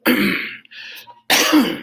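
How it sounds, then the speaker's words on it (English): Two rough, close coughs separated by a brief breathy pause, loud and harsh. "Sorry about the cough."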